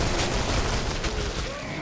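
A Tommy gun fires in the co-op video game Killing Floor, a dense continuous burst of rapid automatic gunfire, loud and close, filling the short moment with no pause.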